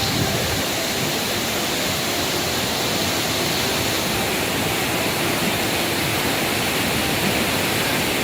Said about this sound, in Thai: น้ำไหลแรงมากดูสิคะ